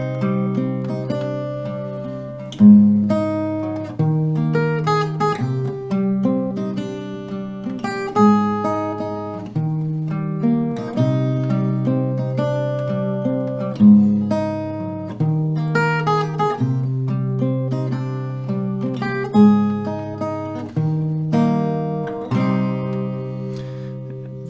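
Guitar playing the melody of a song with filler notes drawn from the chords, a repeating plucked phrase cycling steadily for about twenty-five seconds, close and clear with no talking.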